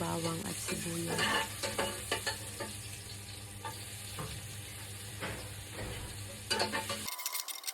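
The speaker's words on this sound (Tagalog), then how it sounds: "nilalagyan ko muna siya ng ginger, sunod yung bawang at sibuyas" Ginger, garlic and onion sauté in hot oil in a pan, with a steady close sizzle and occasional stirring scrapes throughout.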